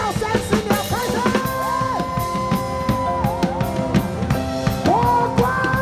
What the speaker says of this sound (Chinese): 尖叫三十秒，开始